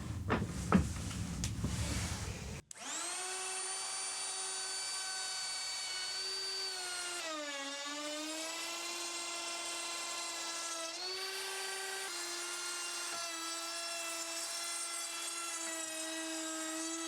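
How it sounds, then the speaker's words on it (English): A forty-year-old router spins up with a round over bit, its motor whine shifting pitch as it cuts into a scrap of pine, sustained and steady for about fourteen seconds after some brief handling noise. "I've got a round over bit in the router and a scrap of pine to test it on."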